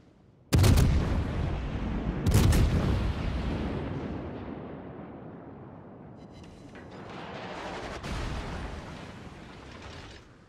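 Two heavy naval gun salvos boom in the World of Warships game, each one a loud blast that rolls away into a long, rumbling decay. A fainter distant shot follows later, and no one speaks.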